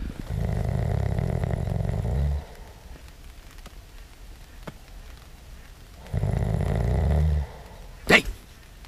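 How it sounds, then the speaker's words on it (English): A person snores while camping beside a lake, with two long, low, rasping breaths a few seconds apart. The sound is close and steady, and a brief sharp squeak follows at the end. "How long are you gonna sit there and tape me snoring?"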